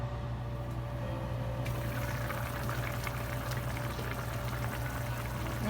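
Pork dinuguan stew simmering in a covered pot, a low steady bubbling and faint crackle under a constant hum, quiet and unbroken throughout.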